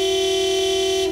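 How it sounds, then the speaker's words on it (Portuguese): A single sustained cartoon car horn blares loud and close in a traffic jam, a steady honk held for about a second before cutting off, with no speech. "Buzinar não vai fazer os carros andarem mais rápido, Papai Pig."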